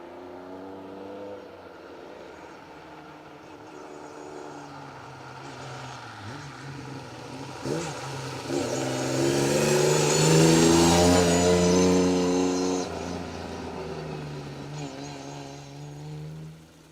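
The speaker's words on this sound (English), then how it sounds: "The second of those cars being the lovely looking Datsun 240Z of Nick Mason and Pete Smith" Rally cars, among them a Datsun 240Z, accelerate hard along a forest stage of the Roger Albert Clark Rally, engines swelling from a distant drone to a loud, close roar before easing off.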